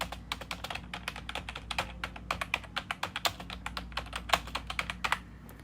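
Keys clatter in quick, uneven bursts on a gaming computer keyboard, a steady run of sharp clicks close up with brief pauses, alone with no talking.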